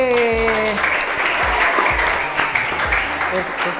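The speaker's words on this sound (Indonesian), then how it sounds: "kasih tepuk tangan untuk kelompok C" Children at a Quran learning centre applaud group C during a prize announcement, lively clapping with voices and shouts mixed in, opening over a fading sung or called tone and continuing busily to the end.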